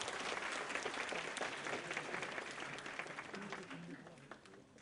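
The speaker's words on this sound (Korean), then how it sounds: "이동현 대표님께 다시 한번 큰 박수 부탁드립니다" Audience applauding after a CEO lecture for university students, a dense, steady wash of clapping from a hall crowd that stays loud throughout and tapers slightly near the end.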